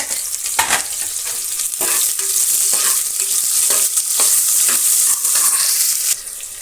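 Lengthwise-sliced onion frying in a pan, a loud continuous sizzle broken by repeated scraping strokes of a spoon stirring it close up.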